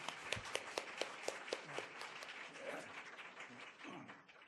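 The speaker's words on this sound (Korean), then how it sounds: "우리 성가대에서 다시 한번 큰 박수 부탁합니다" Church congregation claps for the choir at an Easter joint worship service, a faint, sparse run of distinct claps that thins out toward the end, heard from a distance.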